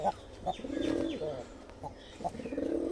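A caged Giribaj pigeon coos in soft, repeated rumbling bursts, close by, with light rustling and small bird chirps between the calls.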